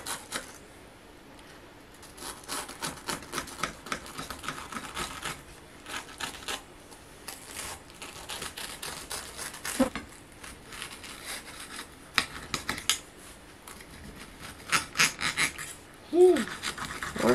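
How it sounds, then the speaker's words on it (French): Fresh basil is sliced with a knife on a board in a run of light, quick crisp cuts and taps, near and moderately quiet, with a brief tonal squeak near the end and no talking. "Et on va le couper"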